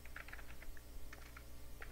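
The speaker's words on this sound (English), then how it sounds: "So I will just type my email" Someone types an email address on a computer keyboard, giving soft, quick clusters of key clicks in an uneven rhythm with brief pauses, fairly quiet and close against faint background hum.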